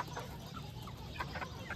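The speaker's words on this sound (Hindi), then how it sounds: "ये देखिए ये बड़ी मुर्गी है" A large hen gives a few soft, scattered clucks close by on a home farm, faint and brief against low background noise.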